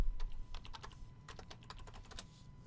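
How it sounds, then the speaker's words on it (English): Quiet typing on a computer keyboard, irregular clusters of light key taps over a few seconds, close but soft, with no voices. "let me type in the North Pole."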